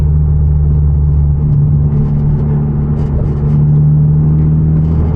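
A Hyundai Genesis Coupe with a turbo and loud exhaust cruises at night, heard from inside as a constant deep engine drone and exhaust rumble that stays loud and even throughout.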